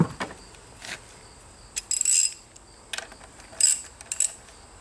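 A ratchet tightens a bolt during servicing of a Honda CRF110F dirt bike, giving several short, close bursts of quick clicking separated by brief pauses.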